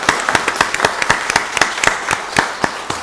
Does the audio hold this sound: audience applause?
yes